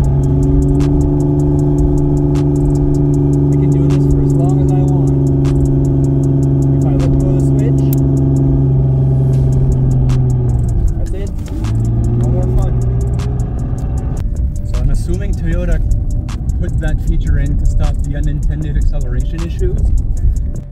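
A Toyota RAV4 engine holds a steady, loud high-revving drone, then sags abruptly when the power is cut by a switch. It settles into a rougher, lower running sound while a person talks over it.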